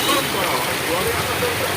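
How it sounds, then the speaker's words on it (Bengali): Heavy rain pours down on a busy street in Chandannagar, a dense steady hiss with a faint hum of passing vehicles underneath. "চন্দননগরে এত বৃষ্টি হচ্ছে"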